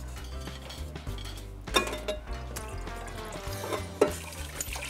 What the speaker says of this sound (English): Remember to always rinse your pot.